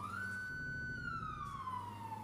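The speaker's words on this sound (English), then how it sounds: "No, it's only got one set of sirens." A fire truck siren wails in a driving game, one long rising and falling tone that holds steady, then sweeps downward, heard alone and fairly faint.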